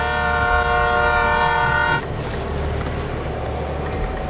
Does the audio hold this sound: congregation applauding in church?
no